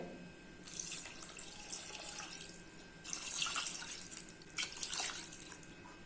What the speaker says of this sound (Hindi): अभी इसमें 3 से 4 ग्लास वाटर ऐड कर देते हैं।